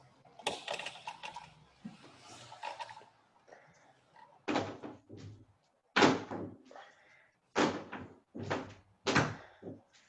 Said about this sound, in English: Don't pull that door off, Chuck